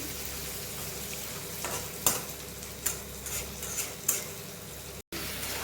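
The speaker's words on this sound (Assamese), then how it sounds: "মছলা ভজা হৈ গ'ল ইতিমধ্যে।" Homemade spice paste of onion, garlic, ginger and tomato frying in a pan, a steady close sizzle with several sharp stirring scrapes and clinks of a utensil against the pan.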